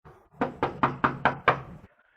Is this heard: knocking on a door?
yes